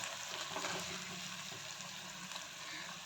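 An onion-tomato masala fries in oil with a constant dense sizzle, while a spoon stirs and mashes it into a paste with faint scraping.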